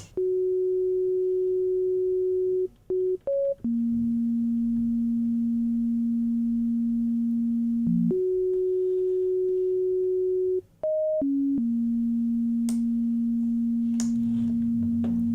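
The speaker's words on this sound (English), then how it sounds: "Let's listen to this, just played with a pure sine wave, just to get an idea of the pattern." A pure electronic sine tone from a Moog Subsequent 37 analog synth steps through a slow pattern of sustained pitches, jumping between high and low notes with brief gaps, clean and steady.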